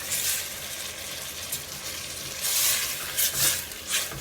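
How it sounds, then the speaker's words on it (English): Diced tomatoes with their juice pouring into a pot of Mexican vegetarian soup, a soft wet splashing and sizzling that swells into louder gushes near the end, heard alone without talk. "I'm going to add in approximately 2 cups of diced tomatoes with their juice."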